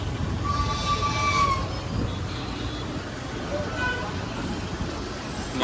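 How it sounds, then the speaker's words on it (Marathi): Steady road traffic rumble in Mangaon, Konkan, with a few short car horn toots early on and again near the end. "आज पण फुल ट्रॅफिक झाले"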